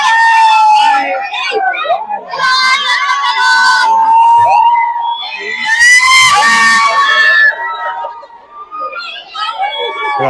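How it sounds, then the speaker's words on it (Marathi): A zoo crowd screams and shouts excitedly as a tiger makes its entrance, loud overlapping high-pitched yells and cheers close by, rising and falling in waves over about ten seconds. "क्राऊड बघा किती नुसता ओरडते"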